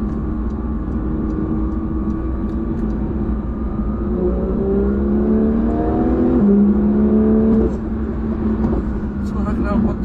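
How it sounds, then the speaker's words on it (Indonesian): A Porsche 911 GT3 flat-six engine revs up with a rising, throaty exhaust note, then drops and settles into a steady rumble, with voices talking over it. "Suara knalpotnya tuh keras dan mahal suara."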